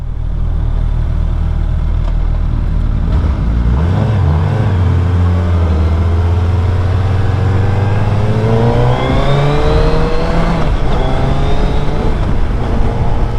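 A 2022 Suzuki Hayabusa motorcycle engine revs loudly and close by, its pitch climbing and wavering over a steady rumbling base for more than ten seconds, with no voices.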